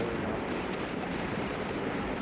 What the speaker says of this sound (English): Big cannon doing some work.